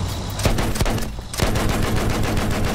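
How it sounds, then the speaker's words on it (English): Rapid gunfire from the Battlefield 1 beta, a video game set in the First World War, with loud bursts of machine-gun shots aimed at a plane, dense and continuous through the clip. "I'm gonna shoot this plane out of sky."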